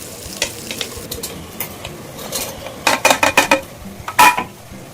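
Potatoes and mushrooms tumble into a hot pan for a broad-bean kurma, setting off a loud sizzle with scraping stirs and clattering utensil strikes against the pan, coming in quick bursts that grow denser toward the end.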